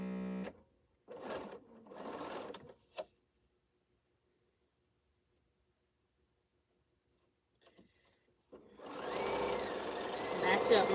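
A sewing machine, run briefly without oil, whirs in two short bursts, then falls silent before starting a longer, louder run of stitching at the end.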